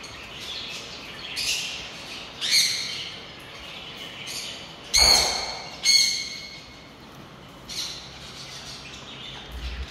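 Parrots at a bird market in Dubai give a few loud, harsh squawks, spaced a second or two apart, over a quiet background hum of the shop.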